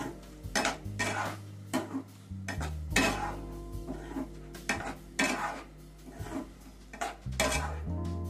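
Chicken being stir-fried with a ground spice mix in a pan, giving repeated loud scraping and clinking of a utensil against metal in an irregular rhythm, close by, with no talk.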